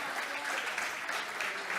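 Brief, steady audience applause rises at an academic diploma programme event, a dense wash of clapping from a seated crowd.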